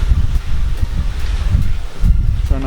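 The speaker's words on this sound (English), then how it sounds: "It's windy as shit today." Strong gusting wind buffets a microphone outdoors at a work site, a loud, continuous low rumble with rustling that rises and falls, with no talk over it.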